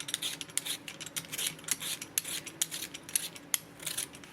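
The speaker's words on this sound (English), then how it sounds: "so I'm going to go ahead and start peeling them" Cleaned potatoes being peeled, a steady series of close, scraping rasps in an irregular rhythm, each stroke a short dry scrape, with no talking.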